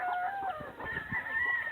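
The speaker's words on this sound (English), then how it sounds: "And rooster." A farmyard rooster crows once, a drawn-out call at moderate distance, alone with no voices.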